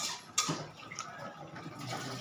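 A pot of paksiw with galunggong fish and eggplant bubbles and simmers up close, a steady wet burble with occasional small pops and clinks.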